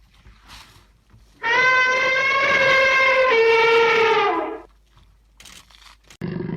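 An elephant gives one long, loud, sustained trumpeting call lasting about three seconds, tonal and close, with brief faint noises before and after.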